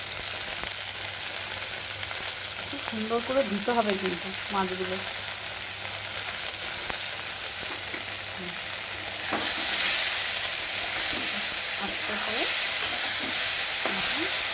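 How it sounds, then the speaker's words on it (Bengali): Small, soft kachki fish sautéing lightly in hot oil in a pan give a steady, close sizzle and crackle throughout, with someone speaking briefly over it. "একটু হালকা এপিট উপিট করে নেবো, সাঁতলে নেবো"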